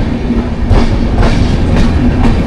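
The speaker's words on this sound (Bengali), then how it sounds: "এই যে আমার পাশে দেখা যাচ্ছে ট্রেন যাচ্ছে।" A train rolls through Kahalgaon station in the foggy pre-dawn, a loud, close, continuous rumble with rhythmic clickety-clack of wheels on rails throughout.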